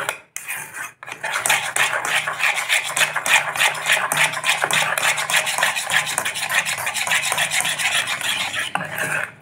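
A utensil stirs lemon juice into khaman dhokla batter in a bowl. Close, continuous scraping and clinking strokes scrub against the dish without pause, with no talk.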